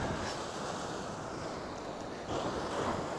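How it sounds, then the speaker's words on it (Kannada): Strong wind roars over the microphone at a beach near Mangalore, blending with the steady wash of breaking waves, a dense continuous rush that swells slightly louder toward the end with no speech. "ಹೆವಿ ಗಾಳಿ ಹೊಡಿತಿದೆ ನೋಡಿ"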